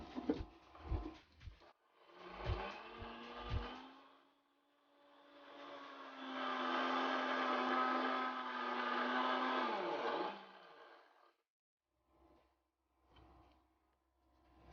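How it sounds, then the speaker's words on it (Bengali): An electric kitchen blender whirring through watermelon juice with sugar, starting after a few short bumps and clatters, then a steady whining motor hum for several seconds before spinning down and stopping. "ব্লেন্ডারে ঘুরিয়ে নিচ্ছি।"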